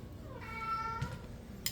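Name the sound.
cat meowing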